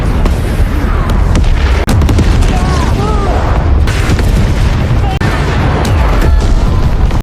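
Bomber aircraft pound a battlefield in a war film, dense continuous booming explosions and rumble, loud and close, filling the whole stretch with little pause.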